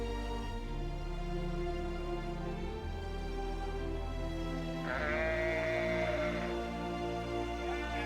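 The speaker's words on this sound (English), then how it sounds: "These sheep aren't your breakfast." Sheep bleat in drawn-out, wavering calls, one louder bleat rising partway through, against a steady musical background.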